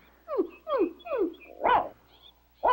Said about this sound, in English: And your nice dog, Paddlefoot.